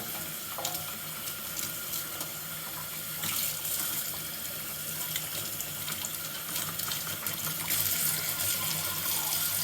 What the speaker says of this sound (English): as you're running water through there